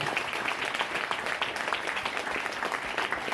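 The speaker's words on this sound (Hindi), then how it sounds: "एक बार जोरदार अपने आप के लिए ताली बजाएंगे दोस्तों" An audience at a leadership and success seminar applauds, steady dense clapping that keeps an even level throughout.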